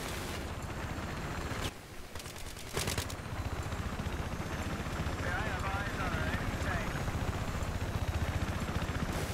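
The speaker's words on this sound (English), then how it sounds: "Here comes the helicopter." In Battlefield 3, a helicopter's rotor drone builds amid a busy firefight, bursts of machine-gun fire cutting through the steady noise while players talk over it.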